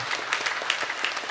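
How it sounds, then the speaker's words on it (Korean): Church congregation clapping to welcome first-time visitors during a Sunday worship service, a brief, fairly quiet patter of hands in a large room, with individual claps standing out. "그분들 서로 환영합니다라는 의미에서 환영하며 박수하겠습니다."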